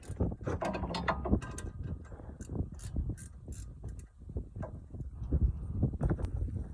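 Gear wrench ratcheting a rear shock bolt loose on a Honda Civic, a steady run of close, rapid metallic clicks with a few creaks, continuing for several seconds without talk.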